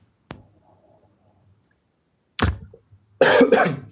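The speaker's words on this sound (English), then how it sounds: "Bit of a cough." A sharp click, then a couple of harsh coughs after a quiet pause, close to the listener.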